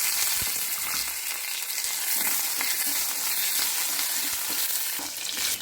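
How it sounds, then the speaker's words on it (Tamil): Potatoes with mustard seeds, curry leaves and coriander fry in hot oil, giving a loud, continuous close-up sizzle with occasional stirring and no talk. "எண்ணெய் ஊற்றிக்கலாம், கடுகு போட்டுக்கலாம், கருவேப்பிலை கொத்தமல்லி போட்டுக்கலாம், உருளைக்கிழங்கு போட்டுக்கலாம்"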